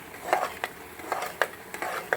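Spoon stirring cooked toor dal inside a large pressure cooker, a few soft scraping and clinking strokes in an uneven rhythm, close and fairly quiet.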